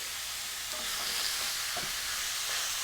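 Pork and sweet potato curry fries in a pan with a steady, close sizzle, broken by soft scraping knocks as it is stirred.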